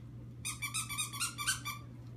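A dog, a female, lets out a quick run of high yapping barks at a tree, about five or six close together, fairly near and alone over a low steady hum.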